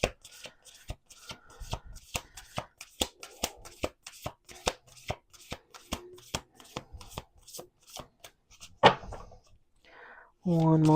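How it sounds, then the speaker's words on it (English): A deck of playing cards shuffled repeatedly at close range, a rapid run of sharp riffling clicks and snaps, with a brief louder clatter near the end and a voice starting to speak just after. "Let's do 2 more shuffles."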